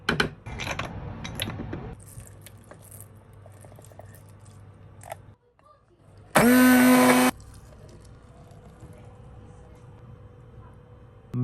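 A blender whirs loudly for about a second while making a milkshake with dates and dry fruit, a sharp, buzzing burst between quieter kitchen clatter and handling noises.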